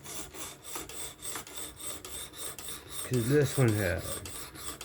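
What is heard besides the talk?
sharpening Spyderco S30V knife on fixed angle sharpener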